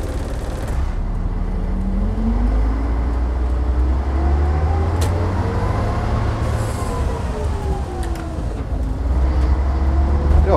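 Leyland National bus driving on a road, heard from inside as a loud, steady engine drone with rising and falling whine as it pulls away and changes gear, with a rattly cabin rumble throughout.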